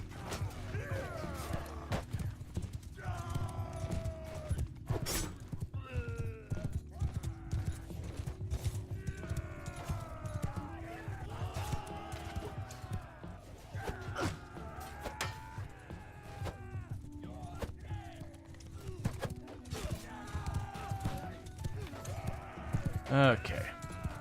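Horses' hooves clip-clop through a Mount & Blade II: Bannerlord battle, a steady rhythmic patter under constant game noise, with occasional creaks and voices talking over it.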